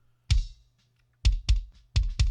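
Drum mix of kick and snare without Saturn distortion, five punchy hits in an uneven pattern, a single hit then two close pairs, dry and fairly quiet with no voices.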